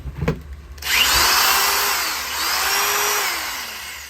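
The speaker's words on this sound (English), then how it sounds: "Will the Ridgeline power this drill?" A power drill running off a 2021 Honda Ridgeline RTL-E bed power outlet spins up after a brief handling noise, whining loudly and steadily, its pitch dipping and rising as it runs close by.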